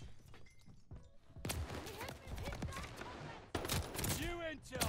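Bursts of turret gunfire and scattered shots in a Call of Duty Vanguard search-and-destroy match, fairly quiet and intermittent, with a player's voice speaking over parts of the action.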